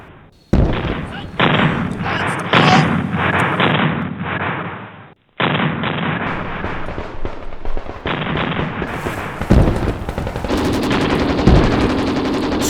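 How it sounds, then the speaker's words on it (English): Heavy battlefield sound effects of a dawn attack: dense rattling machine-gun bursts and rifle fire layered over booming artillery and explosions, loud and continuous with a brief gap midway. "The sound of the guns was comforting"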